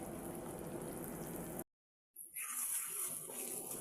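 A cauliflower masala curry simmers in a pot, giving a steady bubbling and sizzling hiss that cuts out briefly and then resumes, with no talking.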